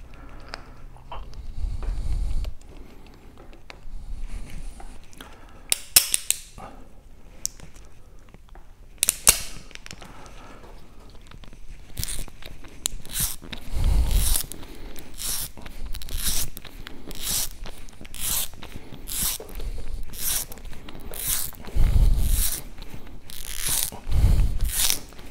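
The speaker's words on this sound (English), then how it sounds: "I've stripped the sheath down now using the cabby fix or G-stripper tool." A cable stripper tool cuts away the sheath of a FlexTube cable, making repeated crunching, ratcheting clicks and scraping strokes in an uneven rhythm, close and fairly quiet.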